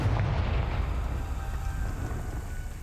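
A Confringo blasting spell goes off in Hogwarts Legacy, a deep rumbling boom that rolls on as a dense low roar through the whole stretch with no voices over it.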